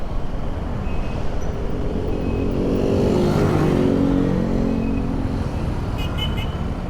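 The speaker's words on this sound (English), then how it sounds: "Got some significant traffic up ahead." Road traffic around a motorcycle in Angeles City, picked up by a helmet-mounted camera, with steady engine and wind rumble throughout, a vehicle swelling past in the middle and a faint toot near the end.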